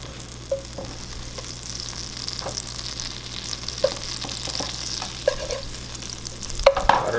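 Butter melts in a pan for an Asian basil pasta, giving a soft, low sizzle at close range with occasional light clinks and scrapes of a utensil, no talking.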